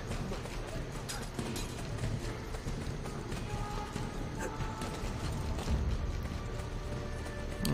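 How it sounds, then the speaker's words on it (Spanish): Horse hooves clip-clop at a steady gallop in the PS4 game Assassin's Creed Brotherhood, set in the sewers of Rome, running continuously under dense game sound with some voice activity in the mix. "el caballo justo ha pasado en el momento."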